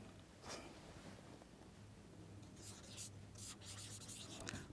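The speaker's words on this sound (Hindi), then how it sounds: "एक दूसरा वाक्य लिखता हूं मैं" Marker or chalk scratching across a classroom board as a sentence is written, a series of short, brisk rubbing strokes close by, with no talking.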